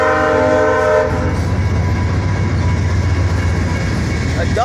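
A VIA passenger train and a CN local train moving together on the same track in Brockville, with a loud sustained multi-tone horn at the start over a steady, heavy rumble of rolling cars that continues to the end.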